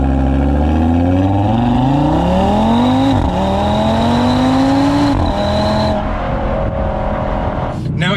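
A car's 2.5-litre five-cylinder engine revs up loudly through several gears, its pitch climbing and dropping with each shift, close and powerful.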